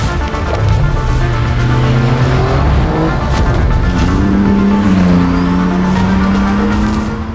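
Donkervoort P24 RS lightweight sports car accelerating hard on a German road, a loud sustained engine drone rising in pitch through gear changes with strong wind and road roar, continuous throughout without speech.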